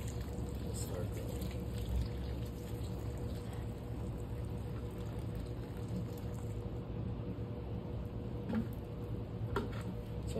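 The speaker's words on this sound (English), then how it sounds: "water is starting to drip, meaning we have good drainage thanks to the perlite" Water dripping and trickling out of the drainage holes of a plant pot filled with soil and perlite, a steady faint trickle with soft ticking drips under a constant background hiss.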